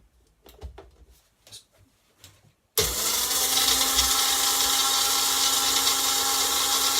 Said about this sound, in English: that's all the shredded wheat blended up